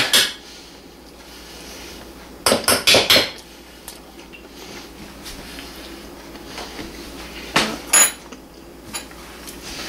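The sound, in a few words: teaspoon scooping baked potato into a mixing bowl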